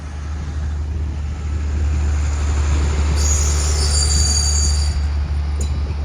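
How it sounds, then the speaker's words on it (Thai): Alsthom 4124 locomotive hauling rapid train 169 through a six-track railway junction: a steady, loud low rumble of passing rail wagons with a brief high metallic wheel squeal midway, no voices. "สำหรับขบวน รถเร็วที่ 169นะครับ ต้นทางกรุงเทพวิวัฒนะครับ ไปทางยะลานะครับ ตอนนี้ กำลังผ่าน ชุมทางหนองประดุกนะครับ"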